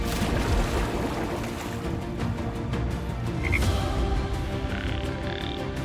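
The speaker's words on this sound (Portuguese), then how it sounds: "rãs," A chorus of frogs croaking continuously, dense overlapping rasping calls at moderate loudness, with a faint wash like water in the background.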